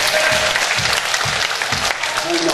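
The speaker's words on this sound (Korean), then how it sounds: "하나님께 응원의 박수 한번 드리고." A church congregation at a pastors' couples healing revival meeting breaks into applause, a dense wash of many hands clapping steadily with a faint rhythmic low thumping beneath.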